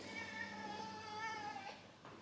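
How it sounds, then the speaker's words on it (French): A cat lets out one long, drawn-out meow, steady and fairly close, lasting about two seconds before fading, in a quiet room at home. "Concours du plus long miaulement."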